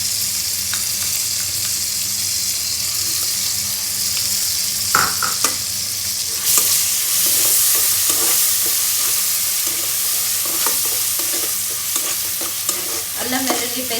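Ginger garlic paste sizzles and fries steadily in a pan while being stirred, a continuous close crackle with a few scrape accents, made for a chicken semiya dum biryani.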